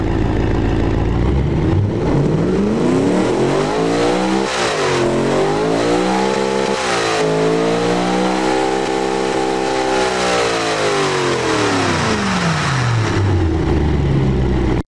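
A car engine in the racing game Automation, fitted with tubular headers and a single exhaust, revs up and down in a long smooth rise and fall, loud and close with no talking.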